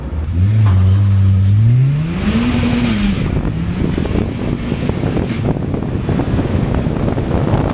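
A K-swapped Honda Civic EG with a turbocharged K23 engine accelerating hard, loud rising engine roar climbing through a gear before giving way to heavy wind rush and road noise.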